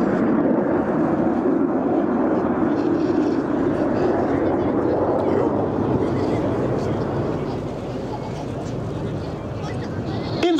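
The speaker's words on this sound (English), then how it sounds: "On the right, the solista is coming for an inverted flight and a roll." At the AirPower11 air show in Zeltweg, a Frecce Tricolori solo jet flies inverted and rolls overhead, making a continuous broad jet roar that swells and fades under a commentator's voice.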